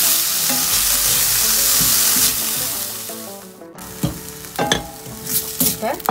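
Broccoli sautés in a hot pan with a loud, dense sizzle that fades partway through. Sharper scraping and stirring knocks follow near the end.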